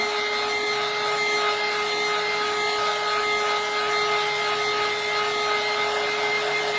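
A heat gun blows a steady, loud stream of hot air over a decal on a coffee-themed tumbler, with a continuous whine that stays even from start to finish and no talk.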